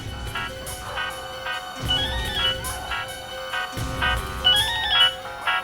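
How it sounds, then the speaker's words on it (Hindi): A phone ringtone plays a repeating melodic pattern in a steady rhythm, several cycles in a row, close and fairly loud with no talking. "फोन बज रहा है।"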